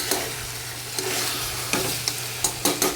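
Mutton sautéing with spices in an open pan, a constant close sizzle broken by a handful of sharp spatula scrapes and knocks against the metal, spaced irregularly across a few seconds.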